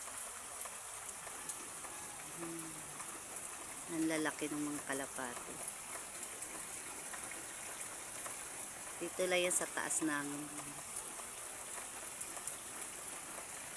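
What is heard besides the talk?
rain falling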